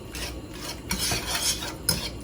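Ricotta is broken up in a pan with a utensil, giving rhythmic rasping scrapes and rubs against the pan's surface. A few sharper strokes stand out, close and fairly loud, with no voices.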